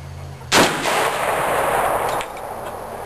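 A single very loud, close gunshot from a Freedom Arms 2008 revolver in .378 GNR with a cut-down barrel and muzzle brake, a sharp blast followed by a long rolling echo that fades over a couple of seconds.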